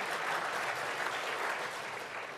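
Steady applause from an audience at a meeting, even and continuous throughout, moderately distant and fairly quiet, with no talk over it.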